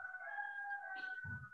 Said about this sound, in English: You even got a little cheer for yourself there from the cockerels